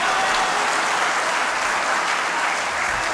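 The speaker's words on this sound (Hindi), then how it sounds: "अब आपके दोनों हाथ उठाकर तालियां देखूंगा" Loud, sustained applause from a large audience at a Hindi poetry event, a thick continuous roar of clapping hands that stays steady throughout.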